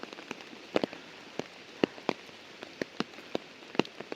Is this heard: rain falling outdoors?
yes